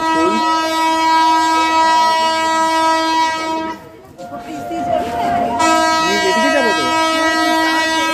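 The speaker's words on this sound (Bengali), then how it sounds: "ট্রেন তো যাচ্ছে, তো সিগন্যাল দিচ্ছে" A train at a station sounds a long, loud sustained horn, pauses briefly, then blasts again as it pulls through, with someone speaking a few words in between.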